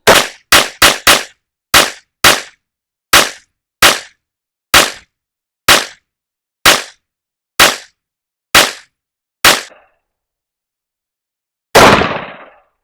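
Loud, close gunshots from a PSA Rock with a cut slide during reliability testing: about fourteen sharp cracks, a quick cluster at first and then steadier spacing, followed by a pause and one longer, rougher blast at the end. No talking.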